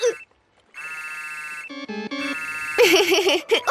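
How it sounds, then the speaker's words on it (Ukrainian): A phone ringtone plays a bright, electronic melody of repeated tones, followed by a burst of warbling, chattering sounds near the end. "ви тільки подивіться, Адріан дзвонить"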